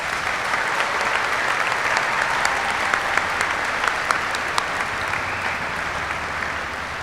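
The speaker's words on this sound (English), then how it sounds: "Please join me in a round of applause for these outstanding warrant officers." A graduation audience applauds newly commissioned warrant officers, a dense, steady wash of many hands clapping at even loudness throughout, with a few sharper individual claps standing out near the front.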